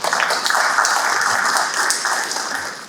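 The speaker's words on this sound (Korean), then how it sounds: "여러분 모신 적에 박수로 크게 맞아주시죠" An audience at a memorial gathering gives a warm round of applause to welcome a guest speaker, with dense clapping that stays fairly loud and even throughout.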